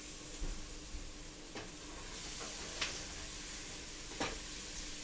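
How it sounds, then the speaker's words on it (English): Leeks frying in olive oil or butter in a pan for soup, a steady close sizzle with occasional stirring scrapes and clicks, no voices. "just fry those for about 3 to 5 minutes until they're ready"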